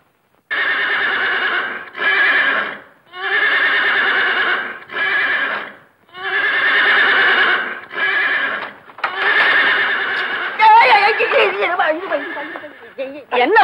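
A horse neighs repeatedly in a 1960 Tamil film, several long, loud whinnies in close succession, ending in a rougher, wavering call with no other sounds between them.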